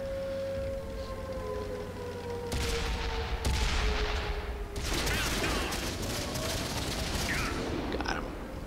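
Tank cannon fire in World of Tanks on Xbox One, several loud booming blasts over a droning engine and tonal whine, with bursts of rumbling impact noise and someone talking in the background.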